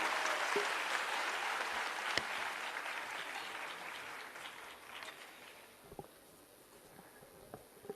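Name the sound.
audience applause welcoming the chief minister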